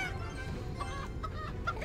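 Chicken clucking emote from the game Clash Royale, a few short soft clucks over a low steady background hum.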